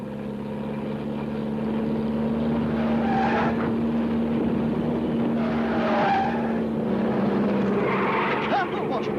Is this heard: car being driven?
yes